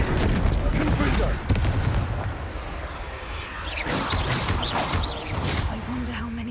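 A Confringo fire spell blasts out in Hogwarts Legacy, a booming burst over a dense, rumbling game soundscape, with a character voice speaking around it.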